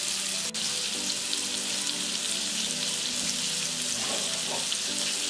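Super colossal shrimp frying in a pan, giving a dense, steady hiss at moderate loudness that holds evenly throughout, with no voices present.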